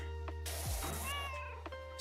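A cat meows in a drawn-out, wavering cry that comes in close over steady background hum and a low game-like tone, with no speech.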